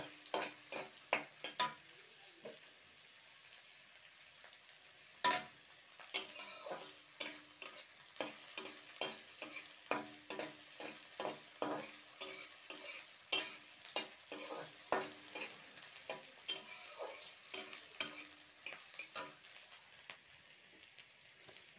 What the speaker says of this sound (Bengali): এই যে পেঁয়াজ ক্যাপসিকাম এগুলো সব আমার একটু লাল লাল করে ভাজা হয়ে গিয়েছে